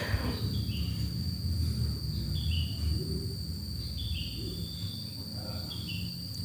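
An Apis cerana honey bee colony during a transfer to a hive box, giving off a steady, close, even insect hum with no talking.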